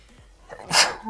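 A single sharp sneeze bursts out near the end of a quiet moment, close and fairly loud, preceded by faint background murmur.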